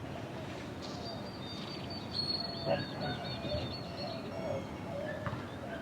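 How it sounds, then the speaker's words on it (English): Small birds chirp and twitter faintly outdoors, with short high calls scattered over steady background noise while a person speaks nearby. "I love these birds."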